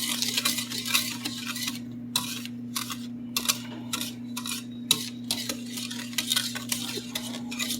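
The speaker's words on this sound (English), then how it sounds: "And we're going to mix that really thoroughly good." A spoon working through chocolate chip cookie dough mixed with vanilla extract and salt, producing repeated scraping, clinking strokes against the bowl in an irregular rhythm over a steady background hum.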